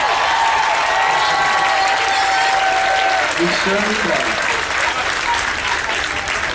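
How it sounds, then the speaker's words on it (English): Sustained audience applause fills a live show as backup dancers and singers are saluted, a dense wash of clapping running throughout while a voice speaks briefly over it. "Can we get an applause for the backup dancers and singers?"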